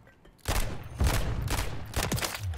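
Shots from the RW1 pistol in a video game ring out as several loud, sharp reports spaced roughly half a second apart, with no talking over them.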